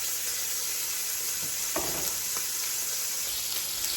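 Short ribs browning in a hot pan for a slow-cooker ragu, a steady, close sizzle and crackle of frying meat with occasional louder pops and stirring sounds.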